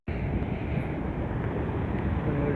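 Waterfall in Aarey Colony pouring down during the rains, a loud steady broadband rush that begins abruptly and holds constant, close to the microphone.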